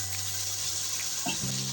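Whole small green chilies fry in hot oil in a pan, giving a steady hissing sizzle with faint low hum beneath and no voices.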